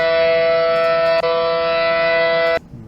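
A raw tornado siren sample plays as a loud, steady tone rich in harmonics, with a brief dip midway, then cuts off abruptly. No voices are heard.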